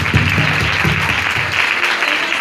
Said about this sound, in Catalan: Moltes gràcies, fallers i falleres, i un aplaudiment